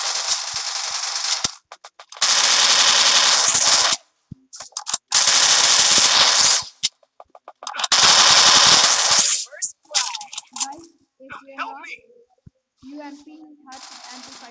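MP5 submachine gun fire in a mobile battle-royale shooter game: several long, loud sustained automatic bursts separated by short pauses, then scattered single shots and game sound effects toward the end.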